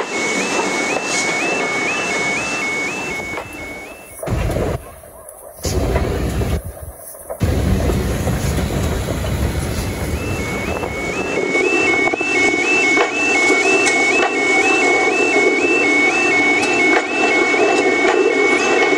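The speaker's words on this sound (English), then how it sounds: "Beautiful train also doubles as a very, very famous locomotive." Steam locomotive 44871, working the Jacobite on the West Highland Line, sounds a loud, sustained whistle over a heavy rumble of the engine, followed by a steady, droning mix of tones and noise as it runs.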